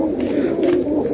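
Flying pigeons coo in a low, continuous murmur, close and fairly loud, with a few soft fluttery sounds over the top.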